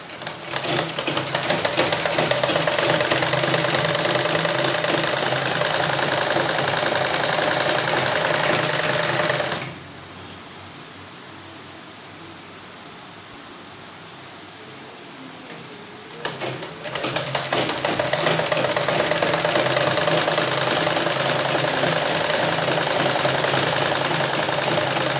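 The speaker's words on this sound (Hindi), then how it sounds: "अब इधर का भी हम सिल लेते हैं।" A sewing machine stitches a suit, running loud and steady with a fast rhythmic clatter, pausing into a quiet stretch for several seconds, then starting again at full speed.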